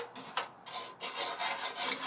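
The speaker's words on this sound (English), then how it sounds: "And then right here, where the wire mesh is, I'll just give it a nice little scrape over." Scraping tool rasped over the wire mesh of a Ninja FlexFlame grill during cleaning, with a steady run of close, gritty scraping strokes.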